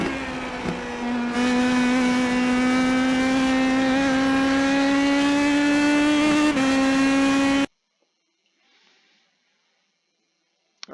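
IndyPro2000 race car lapping Road America in the iRacing simulator, a loud steady high-pitched engine drone with a brief shift in pitch partway through, then cutting abruptly to near silence.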